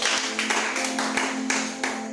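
A church congregation clapping together for Jesus, a dense burst of applause with a few stronger rhythmic claps standing out, close and loud, with a steady tone beneath.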